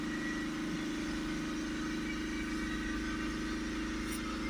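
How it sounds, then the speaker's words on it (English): A steady, droning diesel engine in a BMW 525d with a blocked particulate filter runs at elevated revs around 3000 RPM throughout, even and unbroken, with no voices. "we'll rev the vehicle back up to around about 3000 RPM."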